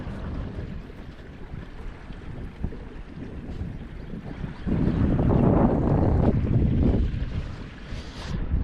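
Steady wind rushes and buffets the microphone outdoors, swelling louder midway before easing back, with a low rumble underneath.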